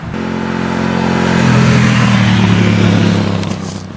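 2011 Aprilia Dorsoduro 1200 motorcycle engine, loud and close, holds a steady throbbing idle, then swells into a rising rev and eases back down, with no talking.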